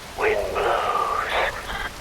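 Steady rain falls in Metal Gear Rising: Revengeance, a soft hiss running under a tonal, voice-like sound for about two seconds.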